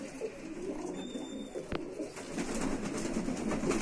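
Low, soft cooing of a Saharanpuri pigeon close by, blended with ambient noise and a brief click partway through.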